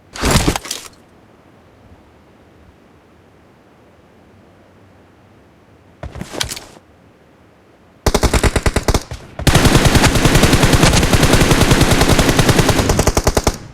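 Gunfire in the video game BGMI (PUBG): two isolated loud shots separated by quiet, then long, sustained bursts of rapid automatic fire laid down as cover fire.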